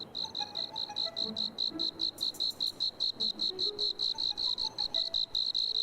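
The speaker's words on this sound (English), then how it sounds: "we could run around catching crickets" Crickets chirping in the martial-arts video game Scroll of Taiwu: a rapid, regular pulsing trill that repeats steadily throughout, close and fairly loud over a faint ambient backdrop.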